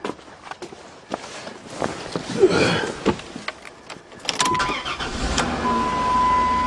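A 2002 Dodge Caravan starts and settles into a steady idle outdoors, preceded by footsteps and a door, with the engine hum rising and holding near the end.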